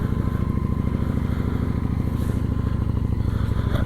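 A motorcycle fitted with saddlebags idles steadily close by, its engine giving a continuous low, pulsing rumble with no talk over it.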